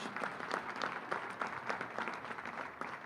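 Audience applause at a press conference in Ireland, many hands clapping steadily in a dense, moderately distant patter for about three seconds, with no voices over it.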